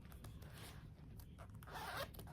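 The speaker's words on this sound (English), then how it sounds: "So back here on the back, it has your Hobo branded zipper." Branded zipper on the back of a cream distressed Hobo leather bag is pulled open, a faint, close, rasping run of small teeth with a brighter burst toward the end.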